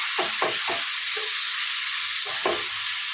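Continuous hissing sizzle of ground masala paste frying in a pan, broken by a few soft scraping strokes of a spoon stirring.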